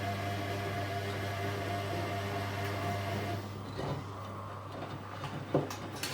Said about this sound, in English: So each tumble is practically 15 seconds on the A3060.